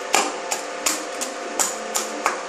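Fried hilsa fish head being broken into small pieces in a kitchen, seven sharp cracking snaps spaced roughly every third of a second over a low steady background hum, close and distinct.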